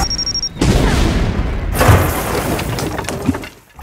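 A loud boom bursts out after a short lull, followed by a long rumbling, crackling roar with scattered thuds as a battleship is sunk in a comedic Addams Family scene.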